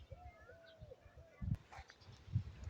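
A grey cat wandering among garden bushes lets out a couple of faint, drawn-out meows early on, while a person nearby talks and makes calling sounds.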